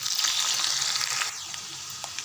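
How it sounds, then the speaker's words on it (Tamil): Vadagam dropped into hot oil for tempering a fish kuzhambu sizzles loudly and steadily, then eases to a softer, thinner crackle toward the end. No one speaks. "நம்ம வடகம் போட்டு தாளித்து கொட்டிடலாம்"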